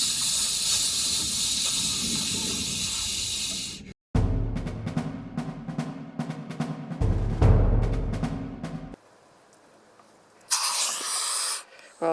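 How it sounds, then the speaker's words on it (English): A Pacific gopher snake gives loud, sustained breathy hisses, one long burst up front and another shorter one near the end, with handling noise and bumps in between. "You'll know if they get angry because this species has a very loud hiss."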